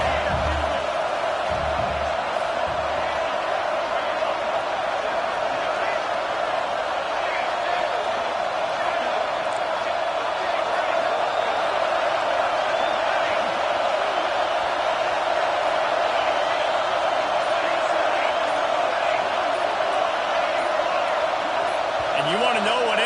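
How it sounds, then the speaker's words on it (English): A home crowd at an Oregon football game roars steadily and loudly throughout, a dense wash of cheering under a commentator talking. "how nice is it to have the home crowd going absolutely bananas?"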